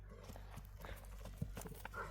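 A horse shifts and moves with a few hoof knocks and soft, low snorting groans, faint and outdoors, while people talk quietly nearby.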